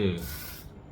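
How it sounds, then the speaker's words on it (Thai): A short, close hiss of sunscreen spray released onto a palm, starting with a brief voiced bit and then a steady airy spray that cuts off within a second. "สเปรย์ลงบนฝ่ามือ"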